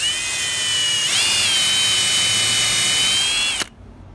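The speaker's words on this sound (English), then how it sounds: "I don't want to drill a bunch of holes into our little bench we made" A power drill spins a Fuller countersink bit into a wooden piece, a loud, steady, high whine for about three and a half seconds with a slight pitch dip partway, then abruptly stops.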